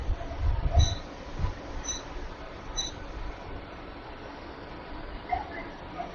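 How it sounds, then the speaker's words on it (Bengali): A Shalimar–Puri weekly superfast express, running from Puri toward Shalimar, is overtaken on the Andul–Santragachi line. Its low, steady rail rumble stays fairly quiet, with a brief heavier swell near the start and faint tonal notes drifting above. "এক কথায় আমরা এই এক্সপ্রেস ট্রেনটাকে ওভারটেক করে বেরিয়ে গেলাম।"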